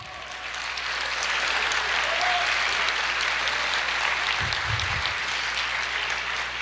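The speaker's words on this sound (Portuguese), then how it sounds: "Glória a Deus, aplauda o Senhor." A church congregation claps together in sustained, dense applause that swells quickly and holds steady, with a few low thumps partway through.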